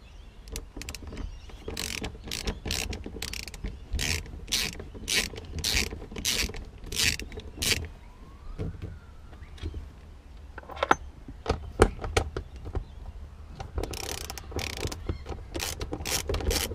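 A ratchet removing the two 12mm bolts from a handbrake mechanism, with bursts of rapid clicking pawl strokes repeating close by, pausing midway, then resuming in short runs.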